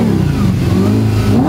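Supercharged Audi R8 making around 670 horsepower revving up, a loud, close, sustained engine roar with rising pitch and a throaty low growl, heard alone without talk.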